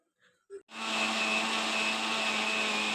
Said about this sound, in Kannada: ಅದನ್ನು ಮಿಕ್ಸಿ ಜಾರ್ಗೆ ಹಾಕ್ಕೊಂಡು ರುಬ್ಕೋಬೇಕು.